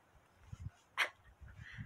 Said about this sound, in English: He's such a big whiny pibble.